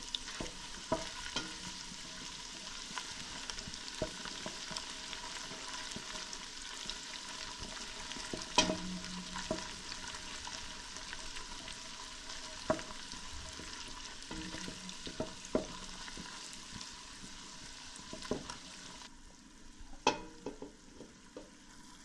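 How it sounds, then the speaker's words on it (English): Onions fry in a pot for Nigerian jollof rice as tomato paste goes in, a quiet continuous sizzle broken by frequent soft stirring scrapes and clinks. "We allow the onion to fry for some minutes. So now we'll be adding our tomato paste."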